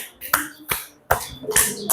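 A classroom of pupils claps a rhythm pattern led by their teacher, producing sharp, close bursts of clapping in uneven groups with short gaps between them.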